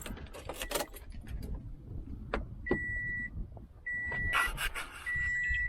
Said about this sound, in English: I just want to turn the car on and test it out real quick.